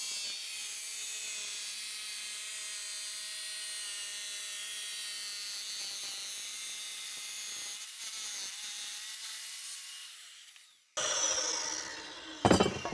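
A saw blade cutting through ceramic tile, a steady whining, rasping grind that holds for about ten seconds, fades, then bursts louder and harsher near the end, with no voices.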